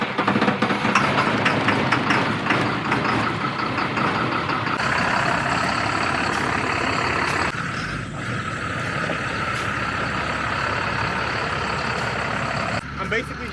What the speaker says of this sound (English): we're going to get my Infiniti off of the rollback